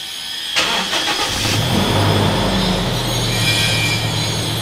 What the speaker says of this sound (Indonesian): Habis itu kita starter mesinnya, kita hidupkan selama 15 menit dan biarkan idle atau stasioner.